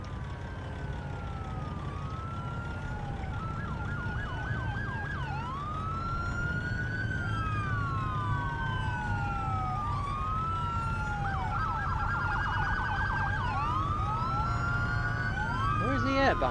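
A wailing ambulance siren in American Truck Simulator sweeps up and down continuously over a steady low engine rumble, loud and sustained throughout, with a driver's voice faintly underneath.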